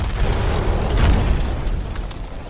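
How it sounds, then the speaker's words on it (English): Devastating explosions tear through a wall in a war-stricken world, a dense run of deep rumbling booms with rubble flying, rolling continuously and loud close by. "Suddenly, a series of devastating explosions ring out and pieces of rubble go sailing over them"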